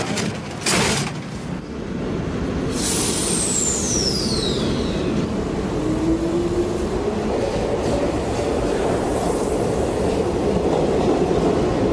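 A metro train on the Hillcrest line in a city game rumbles steadily and loudly along the tracks, with a sharp thump early on and brief squealing wheel whines and sweeps over the continuous rolling noise.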